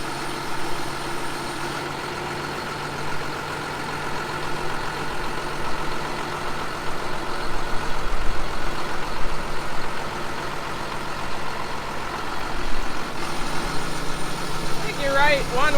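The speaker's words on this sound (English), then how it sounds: "Eric's bringing the skid loader" A skid loader engine idles steadily as a low, continuous rumble throughout, with a slight swell midway, while people talk over it.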